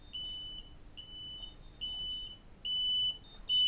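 A rescuer's distress beacon signal sounds on a control console as a repeated electronic beep, five evenly spaced high tones about once every 0.9 seconds, clear and close over a faint low hum.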